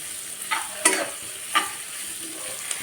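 Capsicum stir-fried in a pan over a full gas flame for pasta, a steady sizzle with a few sharp stirring scrapes and clinks, close and alone.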